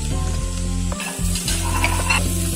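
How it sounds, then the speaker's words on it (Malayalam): Vegetables with onion and capsicum stir-fried in a pan for noodles, a steady close sizzle with stirring and scraping, briefly dipping about a third of the way through before resuming. "ഉള്ളിയും കൂടെ ചേർത്ത് നന്നായിട്ട് മിക്സ് ചെയ്യാം."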